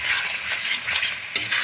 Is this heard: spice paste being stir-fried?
yes